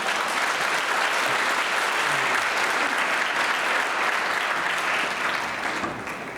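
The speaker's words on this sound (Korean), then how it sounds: "뜨거운 강의 해주신 목사님께 다시 한번 뜨거운 박수 부탁드리겠습니다" Steady, close applause from a church audience for a pastor who has just finished a lecture, dense clapping that holds level and eases off slightly near the end.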